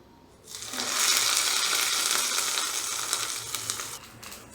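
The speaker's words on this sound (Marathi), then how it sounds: "आता यात मोहरी आणि कढीपत्ता आणि फोडणी आपण चटणीत घालून घेऊ" Mustard seeds and curry leaves hit hot oil in a kadai for a coconut chutney tempering, erupting into a loud, dense crackling sizzle that holds steady for several seconds before easing off, heard up close with no talking.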